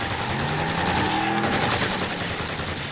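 Video game firing squad opening fire, a dense continuous volley of loud overlapping gunshots filling the whole stretch with a roaring, rumbling texture and no voices.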